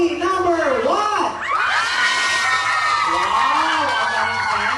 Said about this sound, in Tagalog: palakpakan at hiyawan lang ang gagawin